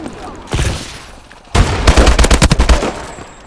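Pump-action shotgun fired in a video game, with a single heavy blast followed by a rapid rattling burst of close gunfire.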